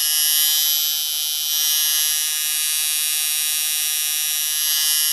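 A cutback long-stroke liner tattoo machine buzzes steadily and loudly at close range, a high, even electric whine that holds without breaks.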